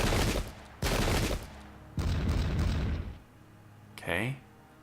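Musket volleys in the Pike and Shot video game's English Civil War battle: several loud, crackling bursts of gunfire in quick succession, close by, followed by a short swooping tonal effect near the end.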